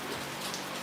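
Rain falls in a steady, close hiss of drops, brief and unbroken.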